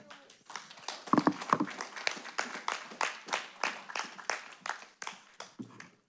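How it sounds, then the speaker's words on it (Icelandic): A church congregation claps during an Icelandic worship service, a steady run of loud, even, rhythmic hand claps that continues evenly from start to finish. "Eigum ekki að gefa þeim gott klapp."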